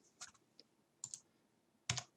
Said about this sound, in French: au lieu de cliquer sur la souris, je peux appuyer sur Entrée, et ça m'a fixé mon premier point